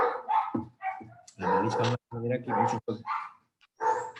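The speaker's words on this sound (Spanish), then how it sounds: "aquí el perro, aquí en la sala, aquí en el piso donde estoy, está un perro a la calle que está fregando" A large dog barks outside on the street in several sharp bursts, mixed in with a man's nearby speech in a room.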